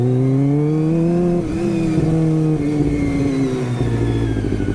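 Kawasaki ZX25R motorcycle fitted with an Akrapovic exhaust revving loudly up close, its engine note rising and falling through several sustained pulls with no talking.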